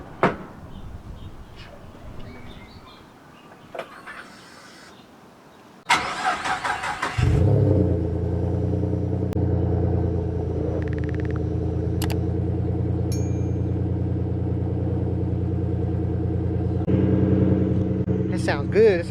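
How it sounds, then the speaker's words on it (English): After quiet clicks and a voice, a single-turbo 3.7 V6 Mustang engine cranks over, catches and settles into a loud, steady, rumbling cold idle. "Alright, so I'll get you guys a cold start."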